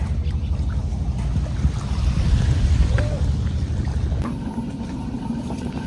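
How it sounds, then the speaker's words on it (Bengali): Low rumbling wash of water and wind around a moving boat, continuous and fairly loud, with a faint muffled voice in the background. "নৌকা নিয়ে আসছিলাম শ্যামরে নিয়ে যাওয়ার জন্য"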